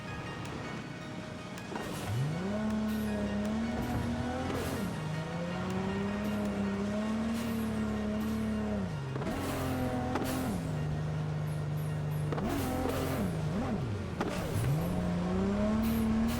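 Car engine from Cyberpunk 2077 (Phantom Liberty) driving in the rain, with a steady humming drone that rises and falls as the car accelerates and shifts, plus occasional tire noise. It stays loud and continuous throughout with no talking.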